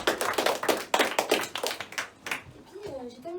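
A small audience at a children's summer magic-course show claps in a quick, close burst of roughly a dozen hand claps that trails off, followed by a brief voice.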